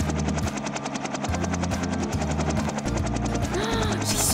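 Steady rapid chopping of helicopter rotor blades, loud and close, continuous throughout with a droning engine hum underneath.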